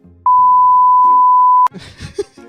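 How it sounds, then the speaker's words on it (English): A loud, steady censor beep tone lasting about a second and a half, cutting over a spoken name in a podcast conversation, with speech resuming right after. "Beep out the name"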